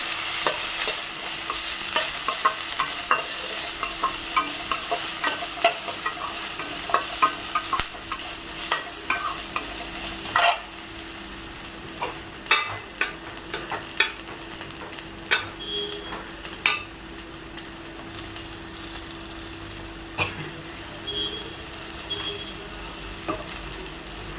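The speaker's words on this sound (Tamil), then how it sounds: "புளி எடுத்து நல்லா வதக்கலாம்" Tamarind, tomato and coconut sauté in a pan with a steady soft sizzle and irregular scraping stirs, fairly quiet, and no voices.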